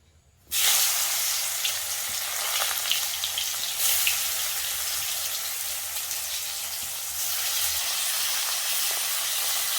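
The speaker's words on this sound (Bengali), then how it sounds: "তেল গরম হয়ে গেছে, করলাটা দিয়ে দেবো।" Bitter gourd drops into hot oil and bursts into a loud, steady sizzle that holds close and constant for several seconds after a quiet start.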